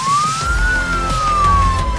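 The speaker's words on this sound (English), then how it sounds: "Arriving by ambulance to Alderhay Emergency Department" An ambulance siren arriving at Alder Hey hospital's emergency department gives one loud, continuous wail that sweeps slowly up and then back down over a low rumble of traffic.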